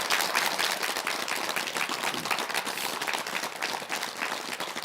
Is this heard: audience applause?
yes